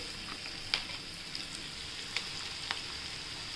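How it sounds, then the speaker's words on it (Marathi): Ground paste for corn upma sautéing in a pan: a soft, steady sizzle with a few sharp pops and crackles scattered through, close and faint, no talk. "हे थोडं परतून घेऊया."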